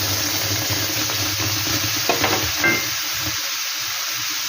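Semolina and mango paste fry in a pan with a steady broad sizzle and hiss, broken by a few scraping stirs near the middle before the sizzle settles and softens.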